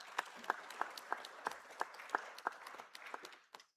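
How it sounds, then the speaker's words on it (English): Applause from a modest audience at a medical conference, with distinct, rhythmic individual claps standing out over lighter clapping that thins and fades toward the end. "A round of applause, please."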